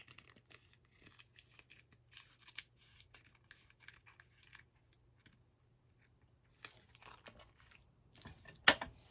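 Scissors trim a glassine bag in a quiet room, making a string of faint close snips and papery crinkles spread across the clip, with a louder sharp crackle near the end.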